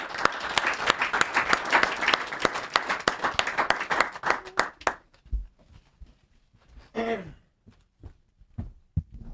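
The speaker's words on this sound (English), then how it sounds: "Make we clap." A studio audience at a Nigerian talk program claps in sharp, distinct strikes that slow and thin out, followed by a brief voice and a few last claps.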